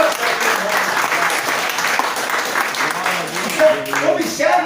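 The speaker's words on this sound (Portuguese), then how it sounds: "Dá uma salva de palmas para o Senhor Jesus." Congregation applauding during a Pentecostal church service, a dense continuous round of clapping throughout with a voice speaking over it.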